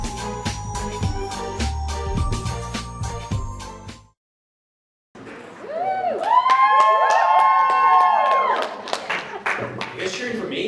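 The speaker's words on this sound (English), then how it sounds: "You guys cheering for me?" A banquet crowd cheers and applauds at close range, a dense swell of voices and clapping after a brief silence, with music playing before it.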